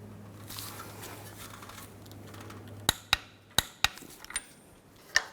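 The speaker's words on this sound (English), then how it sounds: "Now we can torque this nut to 63 foot-pounds." Torque wrench on a strut nut of a 2009-2017 Chevy Traverse, tightened to 63 foot-pounds: faint rustling, then about half a dozen sharp, close metallic clicks in an uneven sequence.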